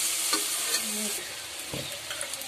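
Hot oil sizzles steadily in a kadai for prawn biryani, a close, even hiss with a few soft scraping knocks from a stirring spoon, and no voices.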